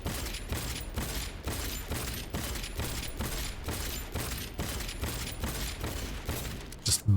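A money-firing gun in Cyberpunk 2077 shoots in a steady rapid rhythm, about a dozen evenly spaced mechanical bursts, fairly quiet, ending with a brighter clinking burst.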